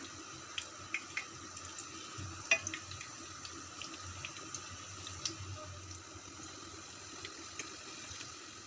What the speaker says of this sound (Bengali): সেকেন্ড লটের বড়াগুলোকেও আমরা ধিমে আঁচে একদম লো টু মিডিয়ামে ভেজে নিচ্ছি